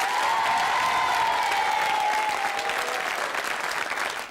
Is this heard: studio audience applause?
yes